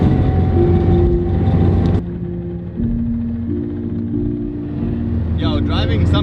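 The engine of a 1965 Porsche 356 C hums steadily while driving, changing tone as gears shift, with people talking over it inside the car.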